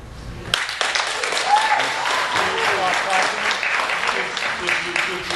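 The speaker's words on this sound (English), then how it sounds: "Clap one more time." Applause at a San Carlos, California council meeting swells abruptly into sustained clapping from a room full of people, loud and close, with voices calling out under it.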